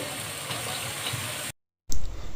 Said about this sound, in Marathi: हे असे गोल्डन ब्राऊन होईपर्यंत आपल्याला तळून घ्यायचे आहे